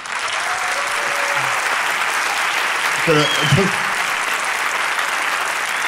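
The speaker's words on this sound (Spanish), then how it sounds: "fuerte aplauso para Ignatius Farray." A studio audience at a Spanish comedy talk show applauds a guest comedian, a broad, even roar of clapping filling the room, while a voice briefly cuts in partway through.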